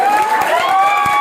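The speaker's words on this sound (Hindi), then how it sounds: "ताली बजा दो मेरे भाई।" Audience at an Urdu ghazal evening in Mau giving a short burst of clapping, dense and close, over a sustained tonal hum from the sound system.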